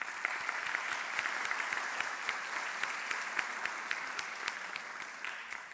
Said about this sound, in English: you start clapping before I start sort of inviting you to clap